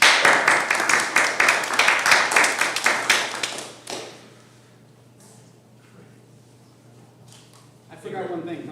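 A board meeting audience gives brisk applause, many hands clapping loudly for about four seconds before fading to quiet room tone, then a voice starts speaking.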